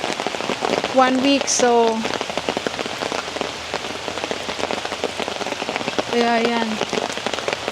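Heavy monsoon rain falls during typhoon season, a steady dense roar of drops on surfaces throughout. A nearby voice talks over it at the start and again near the end.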